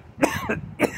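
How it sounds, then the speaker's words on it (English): A person coughs three times in quick succession, close and loud, each cough short and rough with a brief gap between them, with no talking. "The only problem with this cough is that it's coming on very early in the year."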